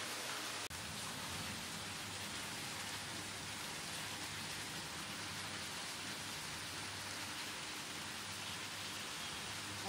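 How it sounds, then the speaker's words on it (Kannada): Heavy rain falls steadily and densely, a continuous broadband hiss of drops on surfaces with one faint knock near the start and no voices. "ತುಂಬ ಜೋರಾಗಿ ಮಳೆ ಬರ್ತಾಯಿತ್ತು, ಸೌಂಡ್ ಕೇಳಿಸ್ಕೋಬೋದು"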